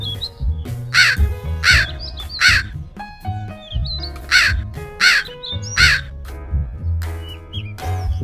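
Crows caw loudly in repeated harsh bursts, several birds calling back and forth close by, with a rhythmic, insistent pattern.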